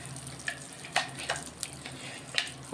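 Ground sesame chutney goes into a hot tempering with a soft, continuous sizzle, broken by a few quick scraping and clinking stirs of a spoon in the pan.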